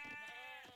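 A single sheep bleat from Age of Empires, a short clear wavering cry, faint but alone.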